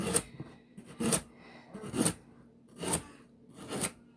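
A knife slicing vegetables on a cutting board for beef stew, five evenly spaced crisp chopping strokes close by and fairly quiet, no talk.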